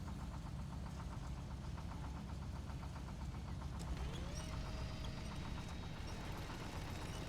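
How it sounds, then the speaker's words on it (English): A truck engine barely running in SnowRunner, low and rough, idles unevenly with a faint rhythmic knocking, steady throughout, and a thin whine rising briefly partway through. "Sounds like the engine's barely running."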